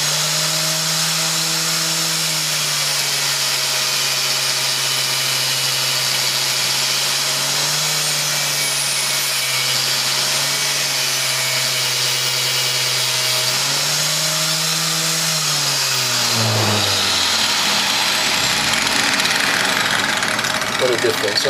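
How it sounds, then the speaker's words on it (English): Angle grinder fitted with a wire wheel brushing a rusty piece of metal, a loud steady whine with slight pitch dips as the tool loads, then spinning down near the end. "I'm gonna brush this rusty piece of metal."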